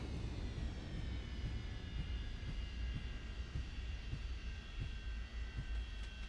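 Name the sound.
airliner thrust reversers on landing rollout, flight simulator game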